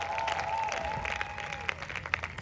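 A crowd at an outdoor church gathering on a boulevard in Oyo claps and applauds in dense, steady applause, with a sustained tone ringing through.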